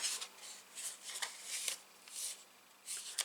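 Paper card stock for a gift card holder is turned over and folded, giving soft intermittent rustling and crinkling bursts, quiet and close, with no talk.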